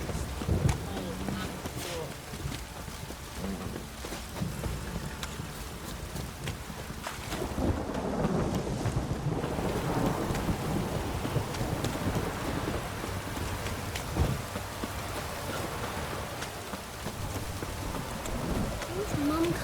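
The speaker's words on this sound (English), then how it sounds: "A storm, damn it." Steady rain and gusting wind from a thunderstorm in The Witcher 3, a continuous dense wash that swells in the middle, with a voice speaking briefly over it.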